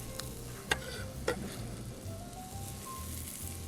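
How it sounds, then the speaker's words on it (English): Leeks and garlic sautéing in olive oil in a pan give a soft, steady sizzle close by, with two sharp clicks early on and no talking. "So we have our leeks sauteing."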